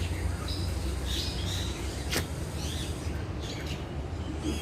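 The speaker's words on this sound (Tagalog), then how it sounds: "Maganda na mga ibon." Birds call in a park: a few short chirps and squawks stand out over a steady low rumble of background noise, moderately distant.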